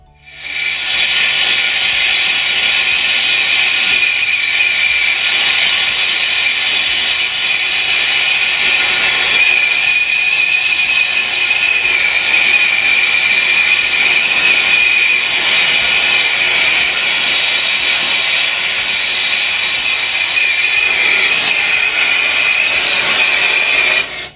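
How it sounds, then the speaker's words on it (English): A torch hisses steadily and loudly at close range while a ball valve wrapped in heat sink putty is soft soldered, the flame roaring continuously with little change. "Now I will soft solder a ball valve."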